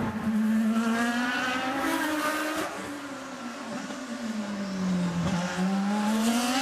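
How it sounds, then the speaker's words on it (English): IndyCar race cars at the 2010 Toyota Grand Prix of Long Beach street circuit roar loudly and continuously, the engine pitch rising and falling as cars accelerate out of the hairpin and pass by. "And that is Justin Wilson that we saw come off the hairpin behind him"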